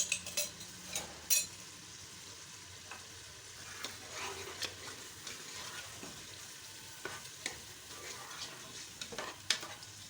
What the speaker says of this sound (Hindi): गोश्त को मैंने अच्छे तरीके से भून लिया है। अब इसमें ये दही जाएगा।